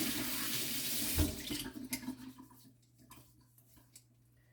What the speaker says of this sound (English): So just cold water takes everything away, and then just give it a quick rinse.